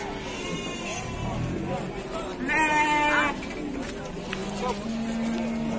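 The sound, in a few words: goats bleating at a cattle market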